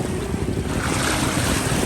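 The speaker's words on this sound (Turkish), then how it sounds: "Ama çok dalgalı." Rough waves on the Dead Sea shore make a loud, steady roar of surf, mixed with heavy wind buffeting the microphone, and no voices are heard.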